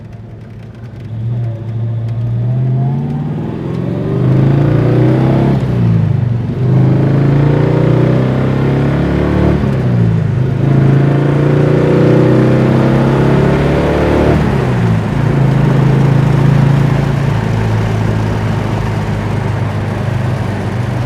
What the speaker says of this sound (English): 1969 Plymouth GTX Convertible.